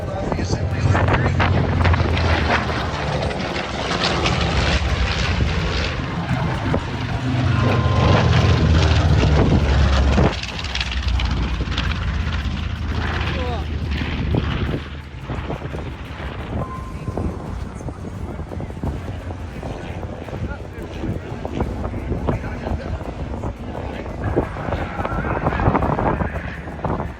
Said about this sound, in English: Spinning around, we have our first look at our first performer, the B-25 Miss Mitchell.